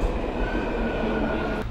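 A subway train rumbles steadily nearby, a loud continuous roar with a faint high whine riding on top.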